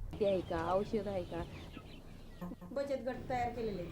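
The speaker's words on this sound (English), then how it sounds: "The women take care of the hens themselves." Hens cluck on a small women-run farm project, in short rising calls that repeat and stand out clearly and close by, with a steady low background hum beneath them.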